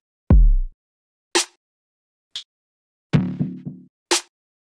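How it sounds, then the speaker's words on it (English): Individual drum hits from a portable music production setup built around a Maschine Plus and an SP-404 play one at a time with gaps between them: a deep kick, snare cracks and short clicky percussion. "but the drums that I am using sound something like this."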